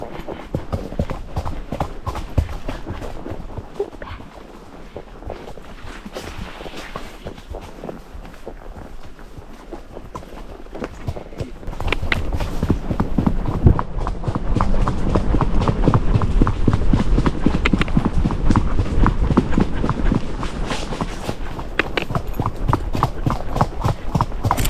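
Icelandic horse hooves clip-clop steadily on the ground at a walking pace, close by and continuous, growing a bit louder partway through.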